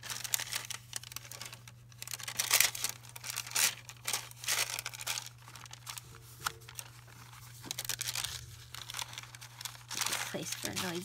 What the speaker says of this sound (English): don't want to forget our noisy paper.